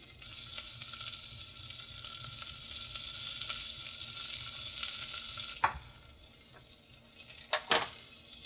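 Potatoes fry in a pan with a steady, close sizzle, broken by a few sharp scrapes as a heat-resistant spatula turns them near the end.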